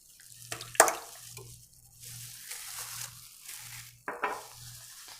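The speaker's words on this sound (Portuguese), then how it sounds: "Aí agora na batedeira eu vou colocar os ovos" Eggs dropped into a stand mixer bowl for a red velvet cake batter: two soft, wet plops, a few seconds apart, over a faint, pulsing low hum.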